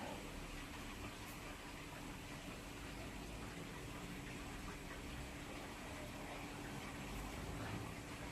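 Chicken oil runs steadily through a large chinois strainer into a bucket, a constant gushing, liquid wash that holds even and loud throughout with no voices.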